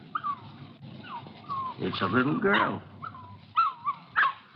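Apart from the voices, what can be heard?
puppy whimpering and yipping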